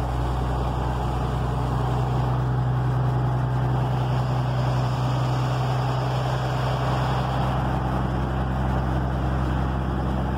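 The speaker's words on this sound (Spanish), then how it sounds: "Pónganse los audífonos para que disfruten ese sonido que da este motor" The Cummins 220 diesel in a 1962 Sultana Imperial 8 bus runs close by with a deep, even, continuous rumble and no other sounds over it.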